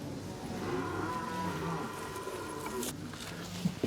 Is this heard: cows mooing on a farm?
yes